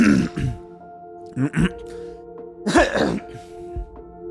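A few harsh throat-clearing coughs in separate bursts, close by, over a faint steady electronic hum.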